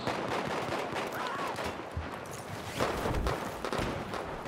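Gunfire in Battlefield 4 multiplayer on the Pearl Market map: a dense, continuous wash of overlapping shots and muffled impacts at moderate distance, with a few heavier bursts standing out.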